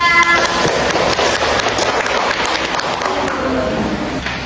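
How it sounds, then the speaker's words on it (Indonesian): A classroom audience applauds group 3 after their presentation: a dense, steady wash of clapping that runs loud and unbroken for several seconds. "Beri aplaus untuk kelompok 3."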